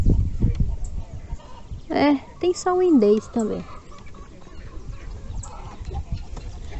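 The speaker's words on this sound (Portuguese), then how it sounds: "Eu acho tão legal essa cantarolinha da galinha." A hen cackles in a run of rising, squawking notes near a nest, fairly close, with a person speaking briefly over the farmyard background.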